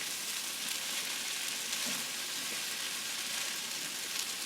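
Shrimp fried rice sizzles steadily in a pan, a soft continuous hiss of frying with faint stirring scrapes and no talking.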